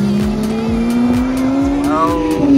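A Lamborghini Aventador SV supercar pulls away from a rally start line, its rising engine note climbing steadily under crowd noise, loud and close, with brief tyre chirps.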